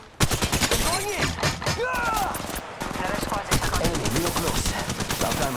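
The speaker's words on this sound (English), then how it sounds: "Opening fire." Sustained automatic gunfire in Apex Legends, continuous rapid shots throughout, loud and near, mixed with in-game voice callouts and effect sounds.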